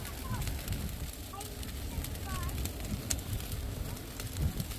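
A bonfire burns outdoors, a steady low crackling rumble with occasional pops under wind noise, while people talk nearby.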